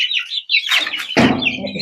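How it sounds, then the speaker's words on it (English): Young Australorp chicks chirping close by, shrill high peeps in quick bursts, followed by a rustle or flutter of small wings and handling noise near the end. "Australorps are very hardy birds."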